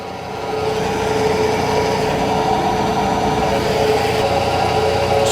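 An axle adapter turns at 1200 RPM while weld material is machined off it, giving a steady close mechanical drone with a faint high whine that holds evenly and does not break.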